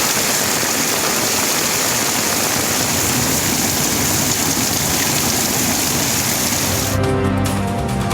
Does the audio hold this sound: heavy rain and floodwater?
yes